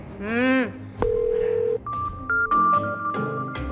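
Mobile phone tones from a scene in an Indonesian drama series: a warbling electronic tone, then a flat beep and a string of short higher dial-like tones, fairly clear with brief gaps between them and no voices.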